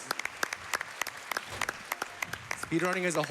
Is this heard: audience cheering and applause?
yes